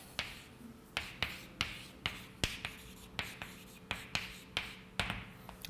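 Chalk or marker strokes on a board during a physics lecture sound as a string of crisp taps and short scrapes at an irregular rhythm, about a dozen marks, close by and with no speech.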